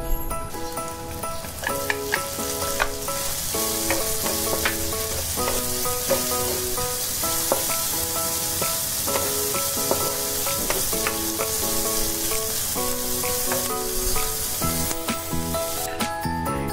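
Chopped onion sizzles steadily in a hot wok for a carbonara, a dense continuous frying hiss with faint stirring, running under louder background music.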